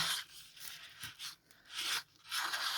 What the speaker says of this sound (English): Scrape those sides.